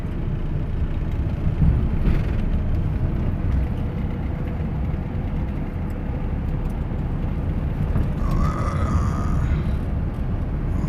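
Steady, loud car engine hum and low tyre rumble from a moving vehicle, a continuous dense drone with no breaks.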